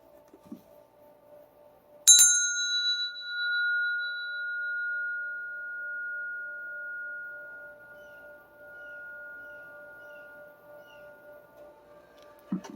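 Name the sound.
bell ringing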